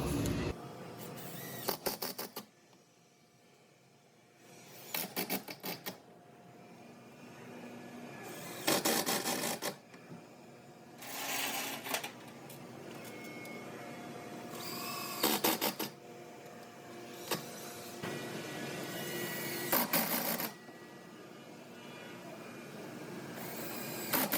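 Screws are driven to fix a vista screen into its frame, giving intermittent bursts of scraping and rasping that start and stop repeatedly, close by, with quiet gaps between.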